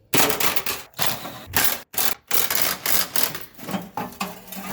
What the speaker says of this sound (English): these 15mm bolts that hold this bracket to the vehicle as well. Go ahead and remove those.